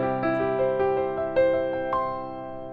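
A pop piano plays short ascending arpeggio runs through chord tones, a few quick notes that ring out and decay, clear and close with nothing else heard.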